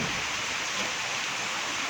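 Steady rain falls outdoors in a rural Thai setting, a dense even hiss of drops that stays constant and fairly close, with no voices.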